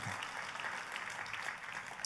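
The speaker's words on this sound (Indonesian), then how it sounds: "Katakan amin dan tepuk tangannya yang paling meriah buat Tuhan kita." Church congregation clapping at a service, a faint, distant wash of steady applause lasting a couple of seconds with no clear voices over it.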